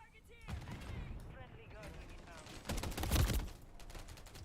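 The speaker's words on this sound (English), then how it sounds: "that was like 2 headshots, man, with a battle rifle" Battle rifle gunfire in Call of Duty Modern Warfare 3, a burst of sharp game shots, loudest near the middle, with a voice talking over the action.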